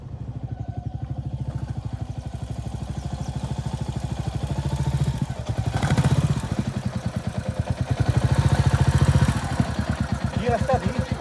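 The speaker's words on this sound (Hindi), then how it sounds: "काफ़ी मोटी रेता की परत है यहाँ पे, तो बाइक चलाना काफ़ी मुश्किल हो गया।" Motorcycle labouring along a thick sand track beside a river, its engine chugging steadily with rhythmic pulses that swell louder in two surges, close by, with a voice speaking over parts of it.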